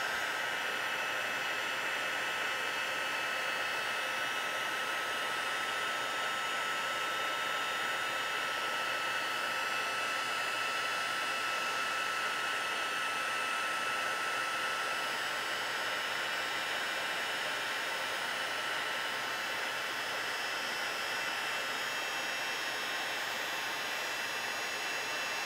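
A heat tool blows hot air to melt embossing powder on a handmade card, giving a steady, even hissing roar that runs unbroken and close for the whole stretch.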